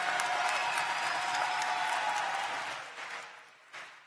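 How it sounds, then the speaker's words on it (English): School crowd applauding teachers and staff at Green Street Academy, a broad wash of clapping that fades out toward the end, with a brief flare just before it stops. "If we can give teachers and staff another round of applause for all that they do."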